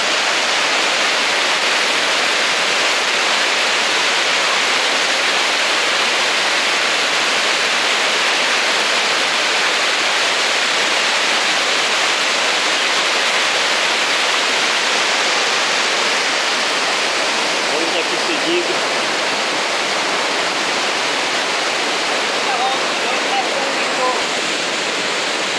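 Floodwater of the swollen river at the Ponte da Amizade in Joaquim Gomes, Alagoas, rushes in a loud, dense, unbroken roar that holds steady for the whole stretch with no talking over it.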